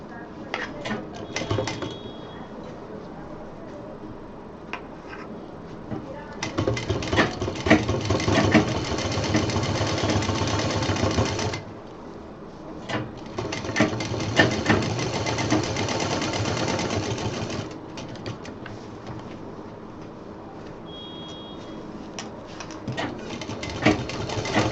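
Sewing machine stitching a pocket on a homemade baby diaper bag, two steady fast-running bursts of moderate loudness with quieter handling and faint background noise between them.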